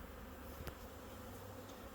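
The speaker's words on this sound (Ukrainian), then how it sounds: "О, бджола у мене Оп, полетіла, по руці повзала" A honeybee buzzes close by at an apiary, a thin, wavering drone over steady background noise, with a brief louder pass as it lifts off and flies away.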